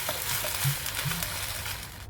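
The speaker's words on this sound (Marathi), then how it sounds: "त्यामध्ये आपण पाणी ओतू, भरपूर पाणी ओतायचे आपल्याला" Water poured into a pan of sautéed fenugreek greens hisses into a loud, steady broadband sizzle that stays close and continuous throughout, with a couple of brief low bubbling gurgles.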